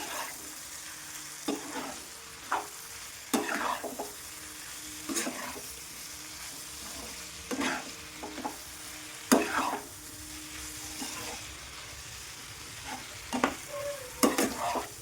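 Spices with red chilli powder fry in a pan for a cauliflower egg masala curry, a faint steady sizzle broken by a series of sharp scraping stirs at irregular intervals, with no voices.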